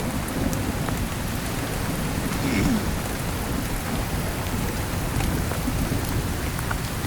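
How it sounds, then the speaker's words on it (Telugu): Heavy rain pours steadily at Baga beach, a dense, loud, unbroken hiss of drops on surfaces with a low rumble underneath and no break throughout. "మస్తు వర్షం పడుతుంది."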